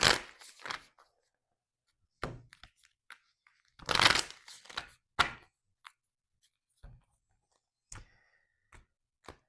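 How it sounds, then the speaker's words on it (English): Tarot cards are shuffled in a few quick, crisp bursts separated by pauses, close and fairly quiet, with soft taps and handling noises between. "3 shuffles, because I already pre-shuffled the cards."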